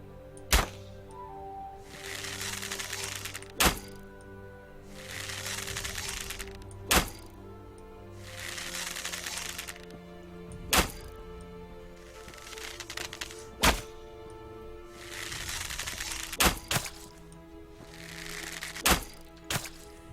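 Repeated sharp shots from a ranged weapon fired at an enemy sailor in the medieval online game Gloria Victis, about eight evenly spaced cracks over a steady ambient game background, no talk.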